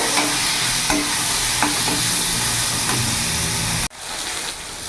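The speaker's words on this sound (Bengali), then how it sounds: "একটু ভাজা ভাজা করে নেব।" Onion, green chili and tomato frying in hot oil with whole cumin, a steady loud sizzle with a few stirring scrapes, then a sudden drop and quieter sizzling toward the end.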